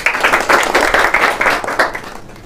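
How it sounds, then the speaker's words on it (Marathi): An audience claps loudly together after a contestant answers a quiz question correctly, a dense burst of applause with a steady pulsing rhythm that lasts a couple of seconds. "त्यांसाठी एकदा जोरदार टाळ्या होऊ द्या."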